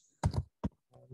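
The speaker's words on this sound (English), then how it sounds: "here is where I type these commands" Keys on a computer keyboard are struck in a few short bursts while terminal commands for a Mac Python setup are typed, the taps close and moderately loud with brief pauses between groups.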